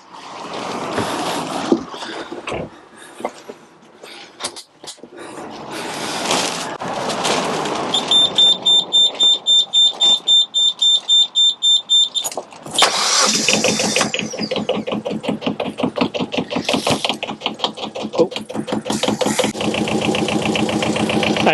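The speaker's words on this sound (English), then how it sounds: "turn the electrics on, see if I can get the engine started" Boat engine cranked after a winter lay-up out of gear, with a beeping alarm during cranking, catching around midway and settling into a steady, close, rhythmic running note alone.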